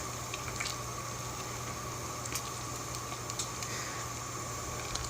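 A pot of water at a steady rolling boil on the stove, with a continuous bubbling, hissing wash and a low hum underneath, close and even throughout with small pops here and there.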